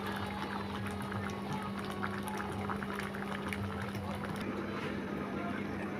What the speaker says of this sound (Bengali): এখন আমরা তেলের মধ্যে ছেড়ে দেব